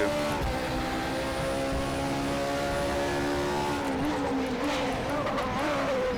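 A Radical race car in the RaceRoom sim at the Shanghai circuit, its engine droning loud and steady with pitch rising and shifting, the car running continuously up close.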